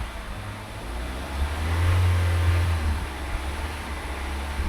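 Car engine with a bad bottom end revving, a low rumbling drone that swells into a louder, sustained rev midway before settling back, heard up close with no talking.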